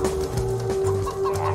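Chickens cluck steadily in the PC video game DeathSpank, a rapid run of close, loud fowl clucks over a constant game tone.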